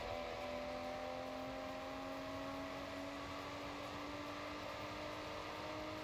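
Ferrari 250 GTO in Forza Horizon running flat out toward top speed, a steady, sustained engine drone with a constant tone, fairly quiet and unbroken with no talk over it.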